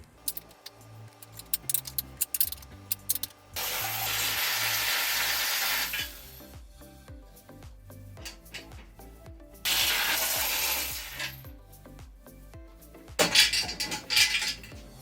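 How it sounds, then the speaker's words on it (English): Breaker bar working bolts loose on an aluminum crash bar of a Nissan 370Z, with scattered metallic clicks and clinks from the ratchet and tools, broken by a couple of longer hissing bursts, fairly quiet and close with no talking. "So we're gonna get out our breaker bar, break this thing loose, get it off"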